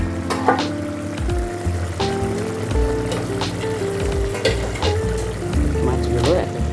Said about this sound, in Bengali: মাছগুলো ঢেলে দেব।